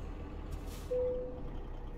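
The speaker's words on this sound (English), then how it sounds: "Parking brake set." An American Truck Simulator truck sets its air parking brake: a brief sharp hiss of air followed by a short steady tone, then low engine hum.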